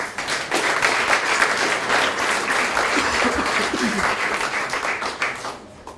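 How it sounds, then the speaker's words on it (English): Loud audience applause at a founders conference, many hands clapping in a dense steady roar that holds for several seconds before tapering off at the end. "Give this man a clap"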